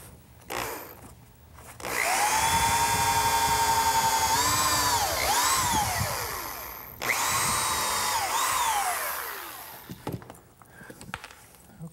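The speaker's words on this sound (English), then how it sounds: "pre-drill some holes for the screws" A power drill bores pilot holes for screws into pressure-treated lumber, two sustained whining bursts with the motor pitch dipping as the bit bites, separated by a short pause, then quiet handling noises.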